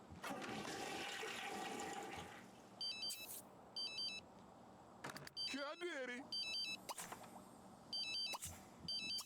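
A toilet flushes in The Sims 3, a rushing watery swirl at the start, followed by a game phone's repeated electronic ringtone bursts and other chirpy in-game effects.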